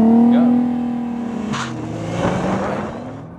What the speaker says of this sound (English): it does take off. Takes off like someone just stole it from the valet